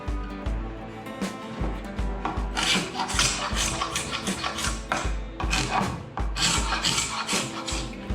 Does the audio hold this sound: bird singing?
no